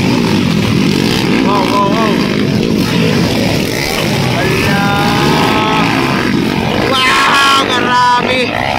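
Underbone motorcycles race at a rain-or-shine event in Santa Maria, Davao Occidental, engines whining and rising in pitch as they pass, under loud crowd noise and an excited announcer's voice.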